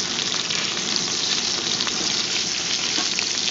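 Bison osso buco browns in a hot pan with a steady, dense sizzle that holds loud and close, unbroken for a few seconds and free of talk.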